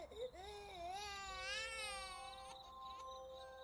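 Infant crying used as a sound effect in a spoken horror story about an aswang baby, a single drawn-out wailing cry rising and wavering in pitch, faint and alone without speech.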